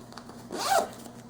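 A single zipper pull on a Condor Summit soft shell jacket, one quick rasping zip lasting about a third of a second, close and fairly quiet, with no talking.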